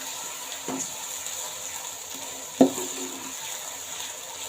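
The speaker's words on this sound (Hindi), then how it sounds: "इनको 2 मिनट के लिए फ्राई कर लेंगे" Ginger, garlic and green chili paste fries in a pan with a low, gentle sizzle, broken by a couple of short clinks and scrapes from stirring, one sharper knock near the middle.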